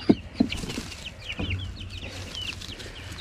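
Chickens in a cage give sporadic soft clucks and chirps, with a couple of sharper calls near the start, fairly quiet and close with no talking.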